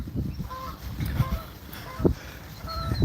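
Nearby honks from a goose sound several times in short bursts over outdoor background noise in Chicago.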